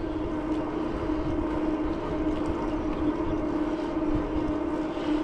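Wind roars steadily across the microphone while riding an electric bike into a fairly strong headwind on a hot highway near Red Cloud, Nebraska, a constant low rumbling buffet with no voice over it.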